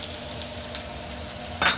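Carrots tumble into a hot frying pan with a broad burst of sizzle near the end, following a steady low frying hiss and a few light clinks of a utensil against the pan.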